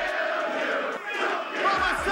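An ECW wrestling arena crowd chants in unison, a dense roar of many voices filling the building at steady volume for a couple of seconds.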